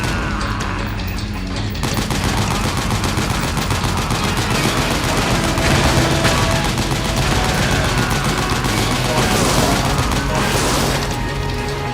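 Heavy gunfire aimed at a gate in Metal Gear Solid 4: Guns of the Patriots, loud continuous bursts and booms with crashing impacts running the whole time, with a voice briefly under the din.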